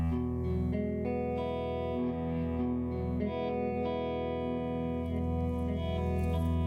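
Electric guitar played through a Red Panda effects pedal set for reverb or delay, giving sustained distorted notes and chords with echoing, smeared tails that ring on continuously and loudly without any talk.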